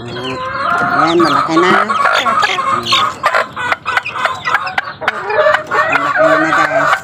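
Chicks and grown chickens cluck and peep continuously at close range, loud and busy throughout, while a person speaks briefly over the flock.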